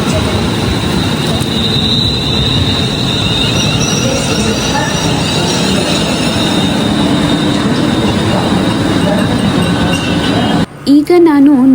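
A National Rail train at a London railway station, a dense low rumble with rattling and faint squeals that runs steadily, then cuts off abruptly near the end, where a voice briefly speaks.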